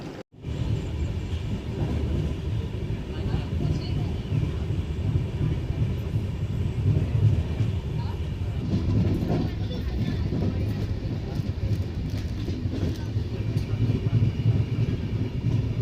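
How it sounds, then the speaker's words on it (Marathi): Konkan Kanya Express pulling into Vilavade station on the Thane–Kankavli run, a heavy, steady rumble of rolling coaches that holds loud and close for the whole stretch, with indistinct voices mixed in. "ट्रेन आली विलवडे स्टेशनला"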